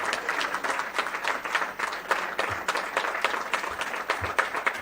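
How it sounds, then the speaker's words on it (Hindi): An audience at a political stage event applauds a state party president, with dense, steady clapping from a large crowd that stays loud throughout. "एक बार जोरदार तालियों के साथ राठौड़ जी का स्वागत और अभिनंदन करिए।"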